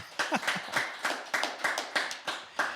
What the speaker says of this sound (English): Let's clap for that.